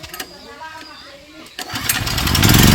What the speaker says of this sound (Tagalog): naga-set up mi gipandaro na naman generator para maka-start na mi og barena